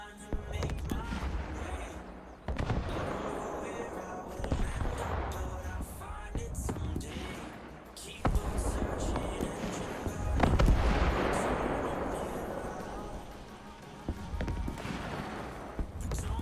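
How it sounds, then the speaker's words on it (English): Gunfire aimed at the player in a war video game: scattered cracks and booming reports with rolling echo over a busy, noisy background, with a voice talking underneath now and then. "Somebody's definitely firing at me."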